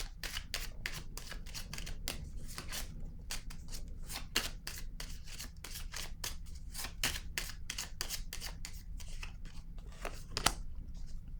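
Tarot-style cards shuffled by hand, a continuous rapid run of crisp flicking riffles and snaps, close and moderately quiet, with no talking.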